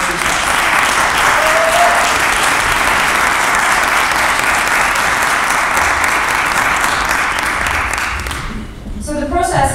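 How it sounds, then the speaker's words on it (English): Loud, sustained audience applause fills a theater for several seconds, then fades out near the end with a few scattered claps. "a big applause for the staff of the theater for everything that they're doing"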